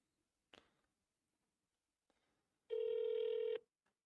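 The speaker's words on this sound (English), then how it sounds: "It's so much easier just to click call and go." A phone call placed through Dealmachine's click-to-call rings once, a single electronic ring tone of about a second that follows a couple of soft clicks, quiet and alone with no talk.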